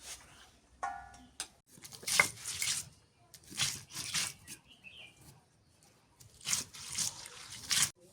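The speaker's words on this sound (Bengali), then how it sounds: "আলুগুলা কাটছি তো ধুয়ে নিতেছি এখন ভালো করে ধোয়া লাগবে" Cut potatoes being washed by hand in water in a village kitchen, with intermittent splashes, drips and sloshing bursts in an irregular rhythm, close by and moderately quiet.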